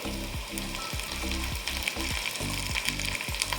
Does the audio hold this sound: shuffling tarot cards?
no